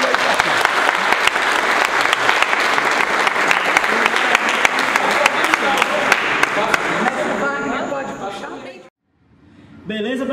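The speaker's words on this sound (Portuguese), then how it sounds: "dona Débora, aplausos, minha mãe." Loud, dense audience applause at an international taekwondo poomsae refereeing conference, sustained for several seconds before fading out, followed by a brief pause and someone speaking.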